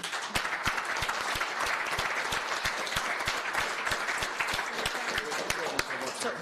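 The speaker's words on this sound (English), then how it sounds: "So I think you all deserve a big round of applause." Committee audience at a parliamentary climate action hearing applauding, sustained crowd clapping with sharp individual claps standing out, continuous and fairly even, with voices mixed in underneath.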